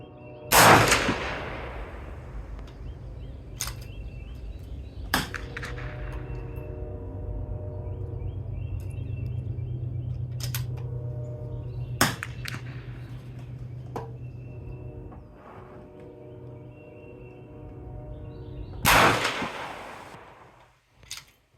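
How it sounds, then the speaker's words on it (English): A single-shot .22 Hornet rifle fires at an outdoor range: a few sharp, loud reports spaced several seconds apart, each with a short ringing decay and quiet handling sounds in between. "Let me put a few rounds to it at the range, and you can see what it's like to shoot it."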